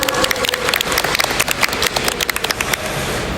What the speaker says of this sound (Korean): 따뜻한 박수로 맞이해주셔서 진심으로 감사드립니다